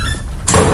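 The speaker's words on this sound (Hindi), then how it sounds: "दरवाजे खुद ब खुद बंद हो गए" Horror sound effect of a door closing on its own: a short creak, then a sudden loud thud as it shuts.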